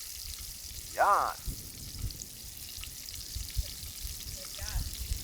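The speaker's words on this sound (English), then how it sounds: "there is just a sound, like a primal sound about stuff frying up" Octopus fries outdoors at a beach in Jamaica, a faint steady sizzle running throughout, with a brief sharp squeal of a voice at one point and soft talk in the background.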